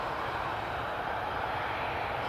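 A steady, loud roar of Embraer 190 jet engines at Newcastle Airport, a broad, even rush that holds without change throughout, with no voices.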